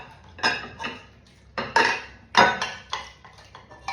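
A metal spoon clanks against a cooking pot as cooked beef is lifted out, producing about six sharp ringing clinks and scrapes at an uneven pace, close and fairly loud.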